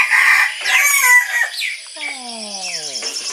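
A rooster crows loudly and close by in the cool early morning of a rural setting, one long drawn-out call with falling tones, preceded by other fowl clucking and calling.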